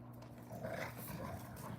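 A dog named Bailey growls in a low, continuous rumble lasting a couple of seconds, fairly close and moderately quiet, with no one speaking over it.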